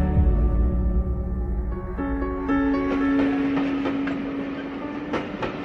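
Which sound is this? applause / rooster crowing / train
train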